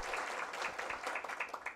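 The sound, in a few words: applause at a conference opening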